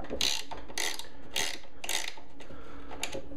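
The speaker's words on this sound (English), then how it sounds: "I'm going to use a wrench since I have my top pulled off. Just loosen this up and it should pivot around and loosen that motor." A wrench loosens the motor bracket on a Delta 22-540 planer with its top removed, making four evenly spaced bursts of metallic ratcheting clicks, close and fairly loud, with a brief pause between each.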